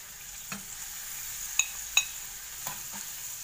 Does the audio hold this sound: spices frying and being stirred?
yes